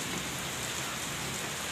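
Heavy rain pours down in a village during hot summer weather, a dense, constant wash of falling water with no voices.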